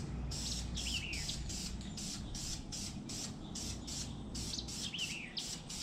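Light green paint sprays onto a 1974 Chevy C30 dually truck in rapid, rhythmic hissing bursts from a spray gun, close and steady, with faint bird chirps in the background and no talking.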